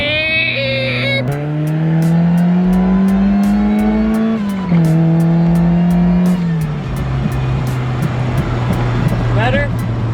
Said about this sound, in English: You can just hear the supercharger go.